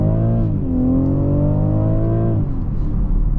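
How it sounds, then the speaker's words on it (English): A 2023 BMW X5 40i accelerates at full pedal, its engine note a loud, steady drone that climbs in pitch for a couple of seconds, then drops back as the revs fall, heard from inside the cabin. "We're gonna do a first acceleration, full pedal."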